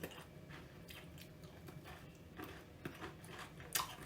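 Crisp, crunchy bites and chewing of a ginger biscuit up close, with several sharp crackling bursts standing out over a low, steady background.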